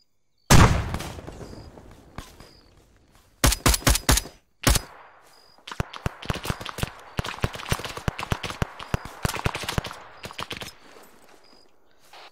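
In ArmA 3, a frag grenade bursts with a loud close blast, then rapid bursts of rifle and machine-gun fire crackle in tight clusters before fading into scattered shots.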